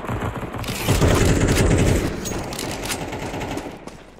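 Rapid bursts of automatic gunfire in a Counter-Strike 2 deathmatch on the Dust 2 map, dense and loud with rattling shots and booms across the whole stretch, no talking.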